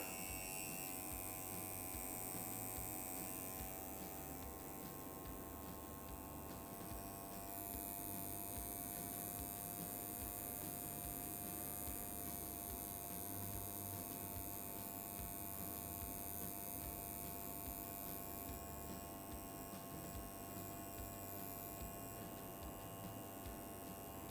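A coil tattoo machine buzzes steadily while tattooing, a continuous electric hum with a bright whine that holds at an even, moderately close level throughout.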